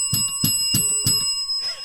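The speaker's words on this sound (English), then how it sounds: "I got my cussing bell" A small handheld bell, rung as a cussing bell on a sports talk show, sounds four quick bright rings in an even rhythm, close to the microphone and loud, then a fading ring.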